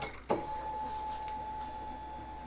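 A motorized lift in a craft room table raises a sewing machine up into place, producing a steady, faint electric motor whine with a sharp click at the start.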